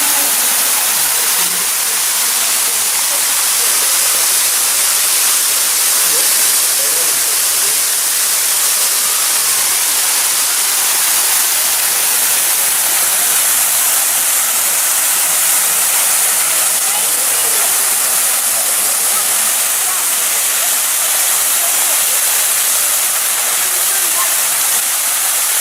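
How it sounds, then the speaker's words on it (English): A waterfall in Ohio drops nearly 90 feet from rocks, making a steady, dense roaring hiss that stays loud and unchanging throughout. "in Ohio, he stood under a waterfall. Water fell nearly 90 feet from the rocks above."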